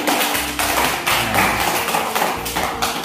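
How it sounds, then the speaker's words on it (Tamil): Children in a classroom clapping their hands in several bursts of rapid, loud applause, with short pauses between them and no talk. "கை தட்டுங்க"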